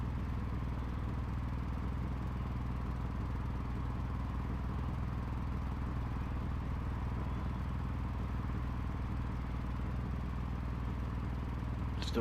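A small RC racing car with a loose, unfixed exhaust, its engine droning steadily and fairly faintly for the whole stretch, with no voices over it.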